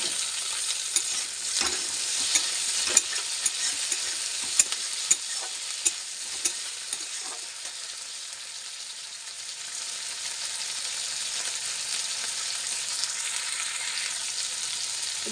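Tomato and onion sizzle steadily in a hot pan for a cabbage, potato and capsicum curry, with a few sharp stirring scrapes early on before the frying settles into an even, close hiss.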